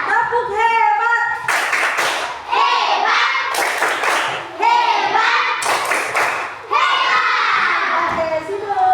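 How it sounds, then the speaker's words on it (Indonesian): Children at a school lesson perform the 'tepuk hebat' clapping chant, shouting rhythmic phrases together between bursts of unison hand claps, loud and close. "Tepuk hebat."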